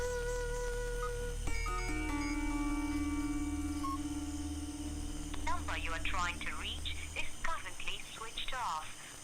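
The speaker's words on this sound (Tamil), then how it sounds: "ஃபோன் சுவிட்ச் ஆஃப்னு வருது." A phone call placed to a switched-off mobile in a Tamil village comedy film, heard as steady electronic tones and a recorded network message over a low hum, with people talking near the end.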